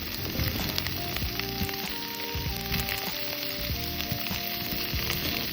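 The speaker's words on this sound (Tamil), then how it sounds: "ஸோ இப்போ நம்ம பன்னீரும் கொஞ்சம் ஃப்ரை பண்ணி எடுத்து வச்சாச்சு" Large paneer cubes fry in a pan for kadai paneer, a loud continuous sizzle with bursts of crackle and occasional spatter throughout, close and steady with no talking.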